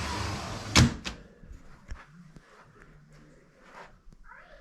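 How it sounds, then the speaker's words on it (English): A screen door in a basement doorway swings shut with a sharp, close slap, then a softer second knock as it settles, followed by light rattles and faint footsteps in a quiet room. "I thought I would show real quick how the screen door turned out to the basement. I'll go ahead and shut it for you."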